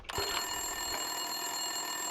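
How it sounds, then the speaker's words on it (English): A telephone rings steadily in an office in the video game Max Payne 2, its bright electronic bell continuing unbroken and fairly loud across the whole moment with no voices. "Winterson's phone was ringing."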